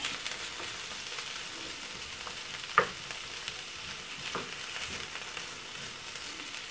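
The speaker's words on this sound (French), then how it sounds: "Voilà, je mélange." Very thinly sliced peppers for a gratin are stirred in a hot pan, giving a quiet continuous sizzle with a few soft utensil scrapes and one sharper knock; nobody speaks.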